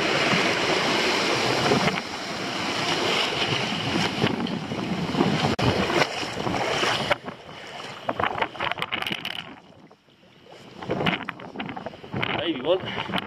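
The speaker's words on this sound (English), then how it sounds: "We are where the water's smashing in." Windy sea water smashes against a rocky shore where abalone are gathered, loud roaring surges and splashes with heavy wind buffeting the microphone, easing into quieter gaps before surging again.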